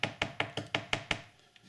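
A spoon works through thick lemon posset cream in a pan, knocking the rim in six even, close taps roughly a fifth of a second apart, then one fainter tap.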